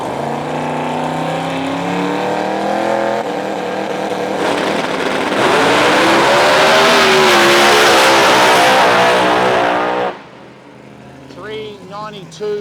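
Radial-tire drag race cars accelerating hard down the strip at an Australian 275 radial showdown, a loud swelling engine roar with rising pitch that cuts off sharply, with an announcer talking over it.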